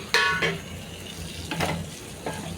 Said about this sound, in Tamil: இப்போ வேக வச்ச உருளைக்கிழங்கு வந்து இதில் போட்டுக்கிறேன்